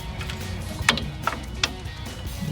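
Ratchet snugging the upper control arm bolts on a 2007-2018 Silverado 1500 during an aftermarket forged arm install; a few quiet, separate clicks of the ratchet over a low shop background, no voices.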